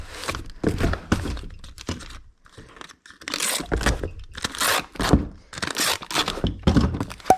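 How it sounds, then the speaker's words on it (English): Packing tape pulled and pressed onto a small 12 by 6 by 4 shipping box: a series of close, irregular ripping strips and dull thumps, bursts of tearing separated by brief pauses, no voices. "And we'll just get this little box taped up."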